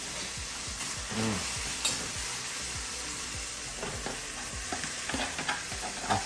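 Saltfish frying in a hot pan as it is stirred, with a steady close sizzle and repeated scraping strokes of the utensil against the pan, no talking.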